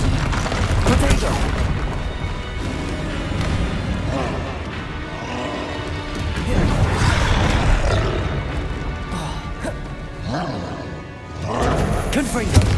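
Confringo blasting spells go off in Hogwarts Legacy combat, with repeated booming, crackling impacts and roaring bursts layered over a busy battle, and voices mixed in throughout.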